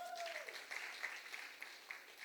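Church congregation applauding during a French-language sermon, a broad sustained wash of clapping with a fading tone at the start, moderately loud and steady throughout.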